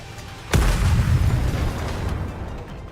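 A tetrapod mech blows up in a video game after erratic missiles strike its thruster, a sudden loud boom with a deep rumbling tail that slowly decays.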